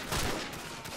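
A short, sharp burst of gunfire erupts in Call of Duty 4: Modern Warfare, a quick cluster of close shots lasting about a second.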